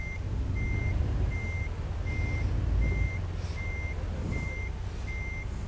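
Truck in American Truck Simulator backing up: evenly spaced reversing beeps, about seven in a row, over a steady low diesel engine rumble with occasional faint air hisses, no talk.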